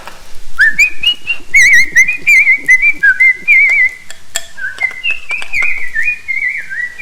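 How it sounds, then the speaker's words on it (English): People whistling a loud, close, warbling melody with rising and falling trills, carried on continuously with a few brief pauses and no talk. "Oh, we got some good whistles going on."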